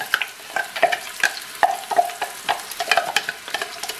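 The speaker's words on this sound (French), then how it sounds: "Donc on va bien mélanger et on va les laisser dorer environ 3-4 minutes." Potato pieces and onion are stirred in hot olive oil inside a Cookeo multicooker, a spoon scraping the pot in repeated strokes over a steady sizzle, close and fairly loud, with no speech.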